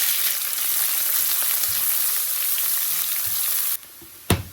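Curry leaves, green chilies and small shallots sizzle and fry loudly in hot oil with mustard seeds in a pan, a steady crackling hiss that drops off suddenly, followed by a sharp clatter.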